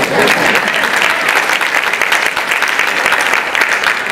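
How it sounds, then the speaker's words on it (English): A gala audience gives loud, sustained applause for a congressman speaking as guest of honor at a Sewa Houston chapter event, a dense roar of many clapping hands, close and unbroken throughout. "You can clap, that's okay."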